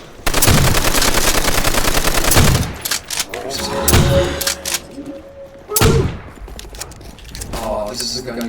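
A Browning machine gun in Call of Duty: World at War zombies fires long, loud sustained bursts with heavy thuds between them, while people talk over the gunfire.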